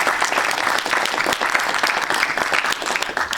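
Audience at a French round-table discussion applauds warmly, dense steady clapping from many hands filling the room without a break.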